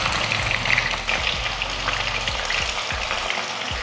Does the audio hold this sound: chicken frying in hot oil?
yes